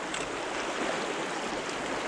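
Fast-flowing water of Spring Creek rushes steadily, a continuous broad wash of splashing and gurgling close by with no voices.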